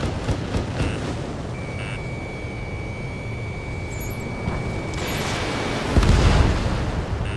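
Missile explosions in the Ace Combat 7 jet game, rumbling booms over constant engine roar with a thin cockpit warning tone and a heavier blast near the end.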